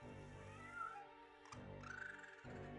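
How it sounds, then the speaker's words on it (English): A cat creature with a human face in the video game Tex Murphy: Overseer meows twice over a dense, continuous backdrop of game sound, with no talking. "Why is there a cat with a human face on it?"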